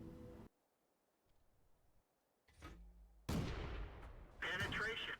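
Tank cannon shots and an armour ricochet in World of Tanks on the BT-SV, heard as a few sharp loud blasts separated by quiet gaps, with a brief burst of voice and clatter at the end.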